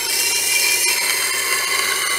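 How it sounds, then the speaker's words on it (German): A kitchen knife is ground against a CBN grinding wheel, giving a steady, continuous bright hiss of metal on abrasive, close and loud, with no speech throughout. "Wenn ihr hinten am Messer anfangt zu schleifen, macht noch mal eine kleine Schleife zurück."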